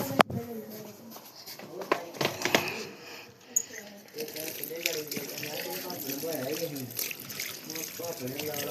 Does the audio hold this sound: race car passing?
no